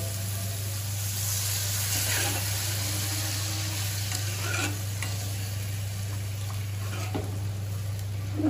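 Mustard masala sizzles in a pan for a Bengali paneer dish, a steady frying hiss with intermittent spoon scrapes over a constant low electrical hum.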